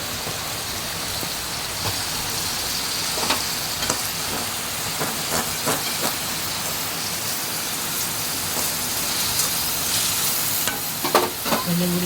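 Fenugreek seeds fry in a hot pan with a steady, close, rain-like sizzle that runs throughout, broken by a few stirring clicks and scrapes.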